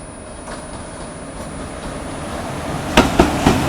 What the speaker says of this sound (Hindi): सामने से आ रही है आप लोगों की डीवा पैसेंजर